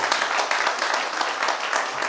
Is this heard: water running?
no